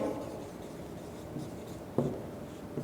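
A pen or pencil scratches steadily across paper while a maths problem on fractions is worked out, with a soft continuous rubbing and a sharper stroke near the end, with no talking.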